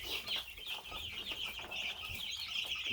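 A flock of young Cornish chicks peep and cluck continuously in a busy, overlapping chorus, close by with no voices.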